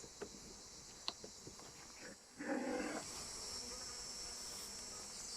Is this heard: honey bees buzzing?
yes